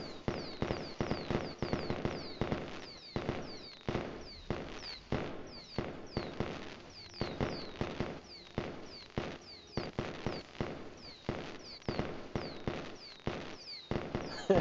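Fireworks at a Devil May Cry 5 anniversary show burst again and again in quick, uneven succession, a long run of sharp cracks and pops at moderate loudness.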